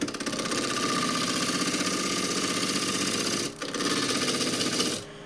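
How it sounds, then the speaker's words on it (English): A large spindle gouge cuts a spinning wood workpiece on a lathe with a loud, steady, close-up shaving roar over the motor's hum. The cut breaks briefly partway through and then stops near the end. "I can use a spindle gouge, this bigger one"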